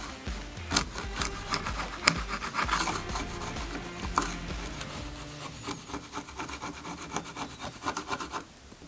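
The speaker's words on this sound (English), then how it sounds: "using a screwdriver to do a chisel's job" A screwdriver used as a chisel scrapes and gouges at wood, giving uneven rasping strokes with sharp knocks, close and steady throughout, with no talking.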